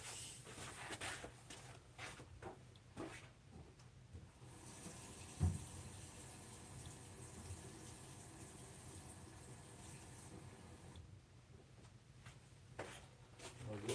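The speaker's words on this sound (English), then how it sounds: "Just add a little bit of water." Water being poured into a malic acid mix during food preparation, a faint, quiet trickle and splash with soft handling noises around it.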